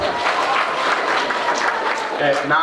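An audience applauds people from Wards 12 and 16 at a Mondlo community thanksgiving gathering; continuous massed clapping at moderate level, with a speaking voice running over it and standing out near the end.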